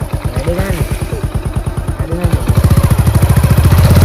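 A motorcycle engine running close by, a rapid throbbing idle with pulsing beats that steadies and grows slightly louder and denser toward the end, no talking heard.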